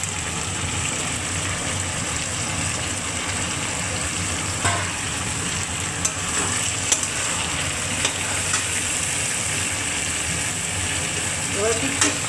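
Brinjal, potato, prawns and beans stir-fry in a pan of hot oil, giving a loud, continuous close-up sizzle with scattered clinks and scrapes of stirring throughout.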